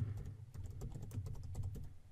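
Quick, light clicking of a computer keyboard while entering a C++ variable name, a brisk irregular run of keystrokes heard faintly up close with no talking.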